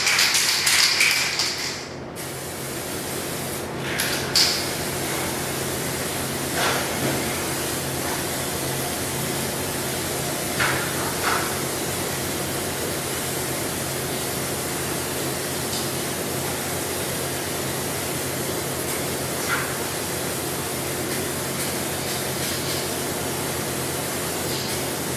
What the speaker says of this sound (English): Okay, so I'm going to spray it on there.